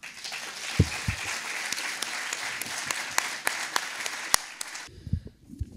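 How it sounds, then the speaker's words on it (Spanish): Audience applause greeting a writer and his interviewer at a cultural talk, steady mixed clapping with a few sharper individual claps standing out, continuing for several seconds before cutting off into near quiet. "Los aplaudimos."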